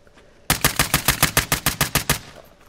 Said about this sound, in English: he's going to aim up at the sky and just shoot somebody